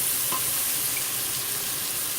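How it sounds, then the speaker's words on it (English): Vegetables sauteing in a hot pan, giving a steady, even sizzle and crackle that runs the whole time, close and fairly loud, with no talking. "just saute these until they're nice and squishy"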